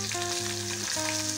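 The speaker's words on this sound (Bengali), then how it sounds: "কড়াইতে সর্ষের তেল দিয়েছি, তেলটা গরম হয়ে গেছে, এবার আমি মাছের মাথাগুলো দিয়ে" Hilsa fish heads fry in hot mustard oil in a kadai, giving a steady close sizzle with bubbling crackle throughout, under a sustained tonal hum, no voices.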